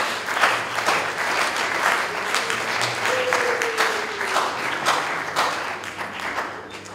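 A church congregation applauds throughout, a sustained wash of many hands clapping at medium distance in a reverberant hall, with faint voices mixed in.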